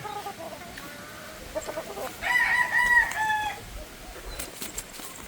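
Pullet chickens on a breeder farm, a few short clucks and crowing-like calls rising in the middle, close by over a low outdoor background hiss.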